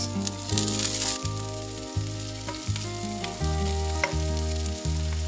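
Onion and green chili fry in a pan for a leafy greens dish, giving a steady crackling sizzle under loud, droning tonal music that shifts pitch every second or so.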